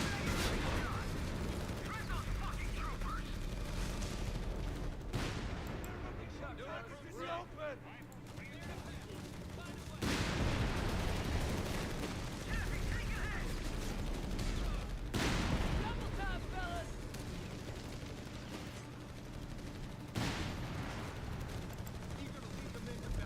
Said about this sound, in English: They've got artillery on the beach.